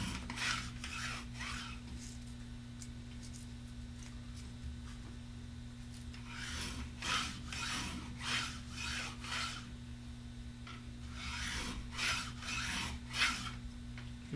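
Woodchuck taper plane shaving a wooden arrow shaft, a series of short rasping strokes in bursts with pauses, close and fairly quiet over a steady background hum.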